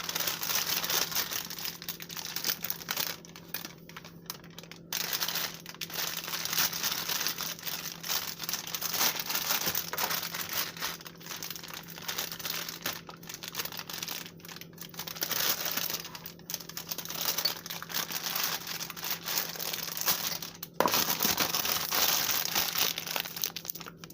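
A plastic pastry piping bag is handled and filled with petit four dough, giving steady crinkling and rustling of plastic with small soft taps throughout, close up and with no talking.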